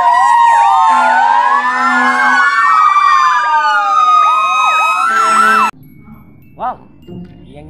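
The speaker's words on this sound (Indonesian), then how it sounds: "Mobil truk tangki pemadam kebakaran." Toy fire truck siren wailing loudly and continuously with warbling electronic tones and layered sweeps, cutting off abruptly near the end, followed by a few faint brief sounds.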